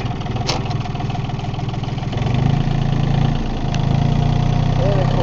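A John Deere 870 tractor engine runs steadily at close range, a low throbbing drone that rises slightly midway as the revs pick up, with a brief click near the start.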